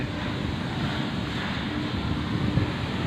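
Steady outdoor wind blows across the microphone beside a house under construction, a continuous broadband rush with slight gusts and no talking.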